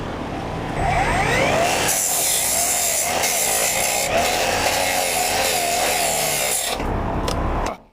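A hand saw rasps steadily through wood, a continuous back-and-forth grinding stroke, loud and close, ending abruptly.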